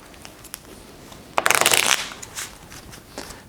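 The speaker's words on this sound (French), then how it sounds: "On brasse pour essayer de perdre la carte." A deck of playing cards is riffled and shuffled in one quick, crisp burst lasting about half a second, followed by softer handling rustles, close and fairly quiet.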